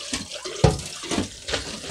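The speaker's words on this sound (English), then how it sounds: "So you can start to fill up your cash pot with water" Water pours into a cache pot filled with LECA clay pebbles, splashing in uneven bursts with a few louder gushes, close and with no talk.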